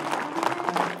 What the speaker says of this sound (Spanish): El sonido de las palmas.